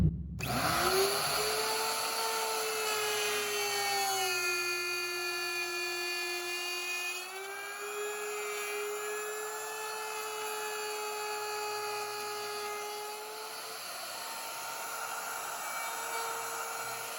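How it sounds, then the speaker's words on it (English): A wood router spins up and cuts into an acoustic guitar body for the top mortise, giving a loud, continuous high-pitched whine that rises and shifts in pitch as the bit bites, with no voices. "don't lift up your router at all while it's spinning"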